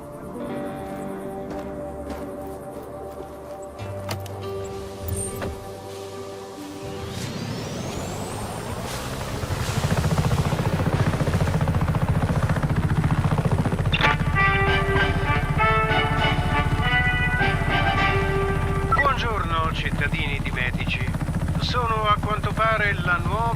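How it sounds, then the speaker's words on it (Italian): Helicopter in the video game Just Cause 3, its rotor and engine noise swelling up and then holding loud and steady, with game dialogue and electronic effects over it. "Questo elicottero, fratello!"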